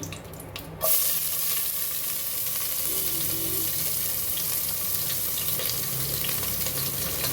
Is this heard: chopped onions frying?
yes